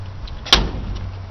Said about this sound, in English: Doors shut nice.